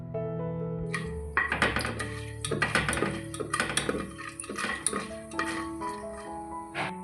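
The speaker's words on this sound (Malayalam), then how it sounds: "ഒരു ചെറിയ തക്കോലം, 4 ഏലക്ക, ഒരു 1/4 ടീസ്പൂൺ അളവിൽ പെപ്പർ കോൺസ് ഇത് ചേർത്ത് കൊടുത്തിട്ട് ഒന്ന് മൂപ്പിച്ചെടുക്കാം" Whole spices, a small star anise, four cardamom pods and a quarter teaspoon of peppercorns, roasting in a pan for a Kerala chicken stew, with close clinks and scrapes of a utensil against the metal, irregular and moderately loud.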